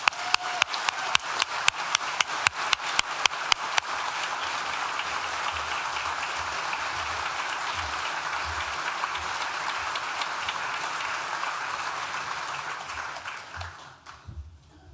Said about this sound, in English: I'd like to just a round of applause for everyone